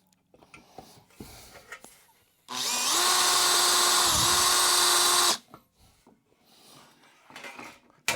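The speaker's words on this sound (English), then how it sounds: "I'm now going to drill the other 2" A power drill with a blunt bit bores a hole in a BSA motorcycle's metal front mudguard, a loud close whine lasting about three seconds with a dip in pitch midway, framed by quiet handling clatter before and after.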